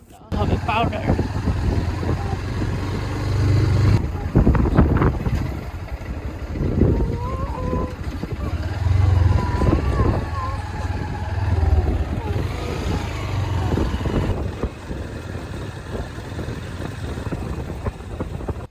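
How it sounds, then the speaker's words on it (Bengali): A motorbike rumbling down a hill on a dirt road, its engine droning steadily and close up for the whole stretch, with people talking over it. "পাপা পাহাড়ের উপর থেকে বাইক নিয়ে নামছে দেখো অবস্থা"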